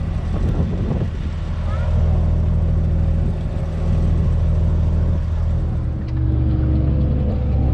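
A Case combine harvester driving during the barley harvest, its engine a steady loud drone with low rumble and wind buffeting the microphone throughout, slightly changing pitch toward the end.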